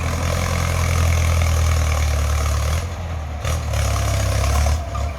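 A Ford 6600 tractor engine idles steadily with a deep, loud rumble while ploughing, dipping briefly midway before settling back into its even chug.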